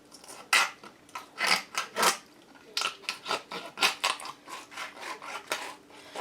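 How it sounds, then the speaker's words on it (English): Turkey ribs cut through at the breast with a blade, a series of close, loud crunching snips and scraping strokes in an uneven rhythm. "I'm actually breaking or cutting through the ribs right here, right at the breast here."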